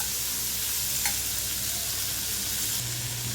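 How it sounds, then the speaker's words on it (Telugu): Broad beans and onions frying in a pan for goruchikkudu vepudu, with a steady close sizzle and a ladle scraping and stirring through them. "చిక్కుడుకాయలు వేసేద్దాం. కాసేపు ఇలాగా గరిటతో కలుపుకోవాలి."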